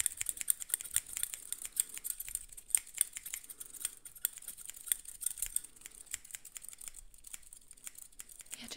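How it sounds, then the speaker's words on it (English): Small scissors snipping in an ASMR eyelash-trimming roleplay, quick crisp close-up snips mixed with light crinkly handling noises, steady and intimate with no talking. "I just needed to cut your eyelashes."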